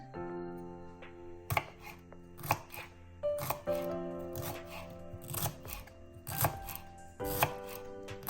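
Knife chopping fresh amaranth greens (mulai keerai) on a board, a series of sharp, close, irregular cuts in short bursts with brief pauses between, fairly quiet overall and no talking.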